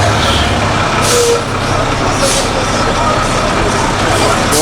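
A truck backs up with a loud, continuous engine rumble, a few hissing bursts from its air brakes cutting through, and talking heard over it.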